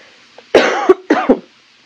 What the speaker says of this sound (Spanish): se le viene el ataque de la tos